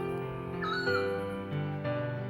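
Several birds call over a steady hum of ambient sound in a marsh on the Île d'Oléron, Charente-Maritime, with sustained tonal cries and brief rising notes, moderately distant.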